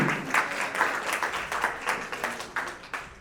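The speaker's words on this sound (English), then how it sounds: "can we have a standing ovation for our keynote speaker?" An audience at a nursing school alumni anniversary gala claps for the keynote speaker, a moderately sized crowd of uneven, rhythmic claps with some close sharp hand strikes standing out throughout.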